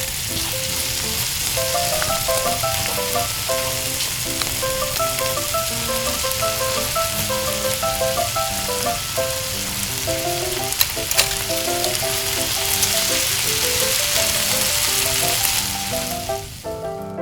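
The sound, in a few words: octopus frying on a miniature grill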